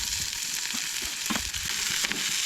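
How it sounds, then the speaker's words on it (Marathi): Soya chunks roast in a pan with onion, a continuous close sizzle broken by small crackles and light stirring knocks. "सोय भाजून घेतना न्हय चडूय करपोन घेवं नाका, मध्यम अशी भाजून घेवंक जाय।"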